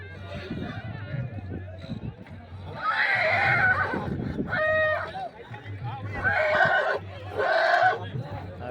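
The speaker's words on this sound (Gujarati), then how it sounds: "રિંગ હતી સ્ટેલિયન ઘોડાની આપણો મયુરભાઈનો ટ્રિગર" A stallion neighs loudly several times in a row, each whinny long and shrill, over a steady low rumble and background voices.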